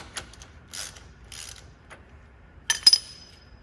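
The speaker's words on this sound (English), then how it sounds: "we're just going to use our 3/8 ratchet. Bust that loose." A 3/8 ratchet works a drain plug loose on a HMMWV geared hub, producing a few short, faint metallic clicks and scrapes with gaps between them, ending in a sharper burst of ratcheting.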